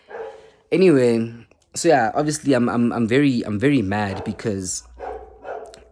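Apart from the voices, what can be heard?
dog barking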